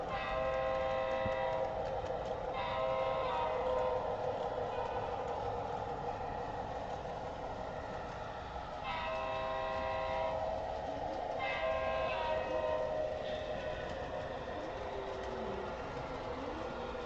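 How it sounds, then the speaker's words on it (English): Model train locomotive on an indoor loft layout, running steadily with a multi-tone horn sounding in several long blasts and short bursts over continuous rolling rail noise, fairly close and clear with no talk. "I love running this locomotive. It's that, and I really like the horn."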